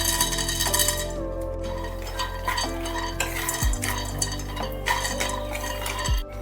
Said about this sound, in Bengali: কিছু চিনি বাদাম শুকনো খোলায় ভেজে নিতে হবে